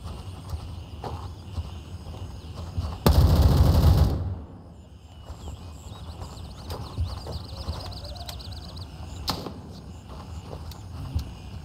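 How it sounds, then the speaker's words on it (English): A loud burst of automatic gunfire in the tactical shooter Gray Zone Warfare, about a second long, followed by a few scattered distant shots over outdoor ambience. "Shots left, shots left."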